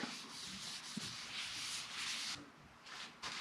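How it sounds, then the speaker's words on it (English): Minwax Wipe-On Poly Clear Gloss is rubbed with a paper towel onto a spruce, pine or fir natural-edge bowl spinning on a lathe at 100 RPM, giving a soft, continuous brushing hiss with slight swells. "I'll be using paper towel to put this on, and I'll be turning this at 100 RPM."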